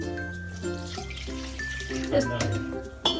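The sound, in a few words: heated water poured into cooking pot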